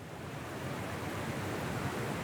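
A river flowing beside a mountain bike trail in the forests of Walpole, Western Australia, a soft, even rush of water heard faintly and continuously with no talking.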